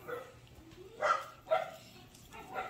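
A dog gives a few short barks and yips, fairly faint, spaced about half a second apart, with quiet background noise.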